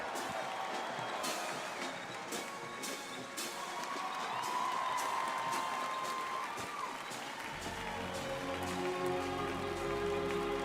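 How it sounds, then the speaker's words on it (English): Parade crowd applauding the 82nd Airborne Ceremonial Band at the US Army 250th Anniversary Parade, a continuous distant patter of clapping and light cheering that sounds almost like rain, with some low sound joining near the end. "Give them a big round of applause, the 82nd Airborne Ceremonial Band."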